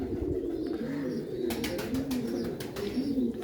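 A Kasni Ferozpuri home-breed pigeon coos nearby in repeated low, rolling, throaty phrases, continuous and fairly loud, with light flutters and clicks of handling or wing sounds over it.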